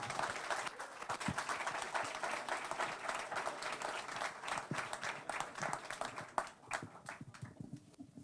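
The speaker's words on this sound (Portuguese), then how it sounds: "a quem eu peço uma salva de palmas" Applause from a debate audience at the Flip 2017 literary festival, honouring the late Arnaldo Malheiros: many hands clapping in a dense, sustained burst that thins out and fades toward the end.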